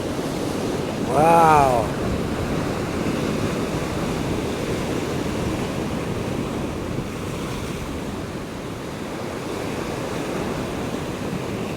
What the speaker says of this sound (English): Ooh, look at that big wave.